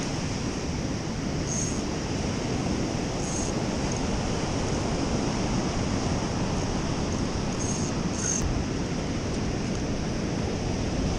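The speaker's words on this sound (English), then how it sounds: "Waves." Steady roar of night surf as ocean waves break along the shore, a dense, constant wash with no speech and a few faint high clicks.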